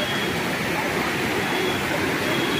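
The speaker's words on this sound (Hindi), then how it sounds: "आप देख सकते हैं कितना तेज़ बहाव है" Fast-flowing current of the Ganga river at Haridwar, a steady, loud broadband rush of water holding constant and close throughout with no pauses.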